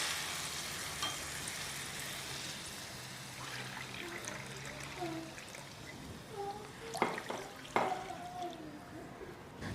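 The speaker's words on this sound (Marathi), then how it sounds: "आता इथं पाण्याला उकळी यायला लागलेली आहे" Two cups of water come to a boil in a cooking pot with ginger and garlic, giving a faint, steady bubbling and simmering hiss with a few soft clinks near the end.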